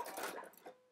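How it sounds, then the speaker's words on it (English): A sewing machine runs a brief burst stitching a 5/8-inch seam around curved jumpsuit pant pieces, a close buzzing whir that fades out within a second, with no voices. "sew this at 5/8 of an inch all the way around"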